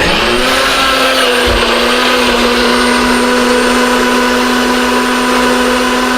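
A kitchen blender grinds a keto smoothie mix before the ice goes in, giving a loud, steady motor whine with a constant pitch that runs for the whole stretch with no talking.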